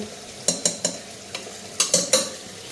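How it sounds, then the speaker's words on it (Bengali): Spices fry in a pan as potatoes go in, a soft sizzle broken by a few sharp scraping strokes of a spatula, close and alone. "আর এদিকে মশলাটা ফ্রাই করে নিতেছি, আলুগুলি দিয়ে দিই।"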